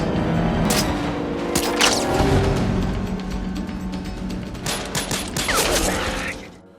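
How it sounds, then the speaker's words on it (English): Rapid bursts of gunfire in a film shootout, with dense volleys and heavy booms crowding together into a loud, chaotic exchange of shots that swells and surges throughout. "Robert sees Miguel, immediately runs towards him and starts shooting"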